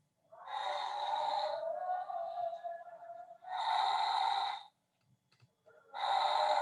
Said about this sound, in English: So it's snoring.